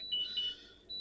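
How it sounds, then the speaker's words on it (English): A blood sugar monitor alarm sounds a short series of high electronic beeps in a quiet room, with a pause before the last tone. "And that's my alarm to say go and check."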